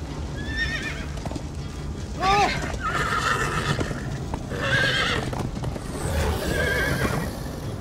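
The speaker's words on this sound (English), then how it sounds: "Yeah, horses are the next best thing after portal." Horses in the video game Minecraft: Story Mode whinny several times amid clip-clopping hooves, the neighs loud and near, while game sounds and chatter run underneath.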